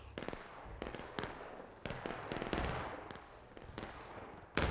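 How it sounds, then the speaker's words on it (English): Civil War–era musket fire in War of Rights: a close ragged volley of many sharp cracks in quick succession, dense in bursts, with a final loud shot. "Keep shooting"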